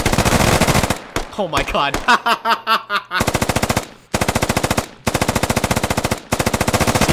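Machine gun fire in the tactical shooter Squad rattles in long, loud, rapid bursts, with a brief gap of scattered single shots and a short excited shout partway through.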